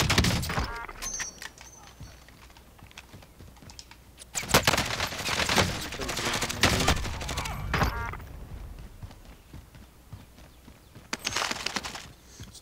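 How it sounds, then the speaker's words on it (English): Gunfire from a Call of Duty: Modern Warfare match comes as several bursts of rapid automatic shots, loud and close, separated by quieter stretches of game ambience, with a final burst near the end. "I'm getting shot at."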